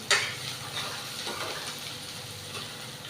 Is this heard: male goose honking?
no